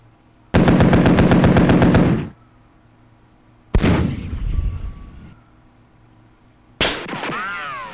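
Gunfire in the WinSPMBT war game aimed at infantry: a loud sustained machine-gun burst, then a single heavy shot with a decaying rumble, and a final crack followed by a whistling ring-out.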